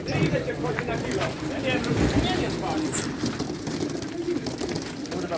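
Racing pigeons of a club section cooing as they are loaded into a transport trailer for a first training flight, a dense, steady throaty coo and flutter of many birds close by, with people talking in the background.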